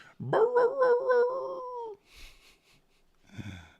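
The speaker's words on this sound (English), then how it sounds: "Give me a long bark, not a short bark." An indoor dog lets out one long, drawn-out bark that rises into a howl-like wail for nearly two seconds, close and loud, followed by a few short, softer huffs and whimpers.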